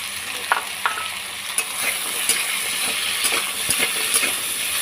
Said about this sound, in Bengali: এবার আমি গাঁটি কচুটা খুব ভালো করে ভেজে নেবো